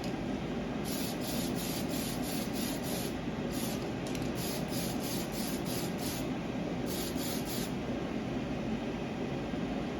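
A spray can sprays paint in a series of short, repeated bursts onto a model truck cab, with steady hissing through each pass and brief pauses between them, close and loud, with no talking.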